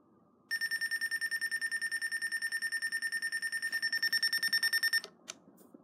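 A custom fire alarm panel sounding its trouble signal: a loud, rapid electronic beeping at an even pulse for about four and a half seconds, then cutting off, followed by a couple of faint clicks.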